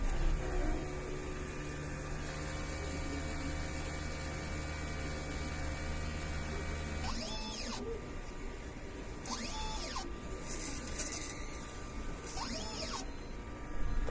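A DTF printer running its head clean cycle: a steady mechanical hum runs for about seven seconds, then the tone shifts and three rising-and-falling whirring motor sweeps follow at intervals, with no talking.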